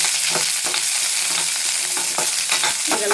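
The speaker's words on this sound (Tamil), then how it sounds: "அப்படியே சின்ன வெங்காயம் அதுவும் சேர்த்து வதங்கட்டும்" Shallots, garlic and ginger sizzle steadily in hot oil in a pan for a chutney, a loud, continuous frying hiss broken by faint stirring scrapes, close up, with no voices.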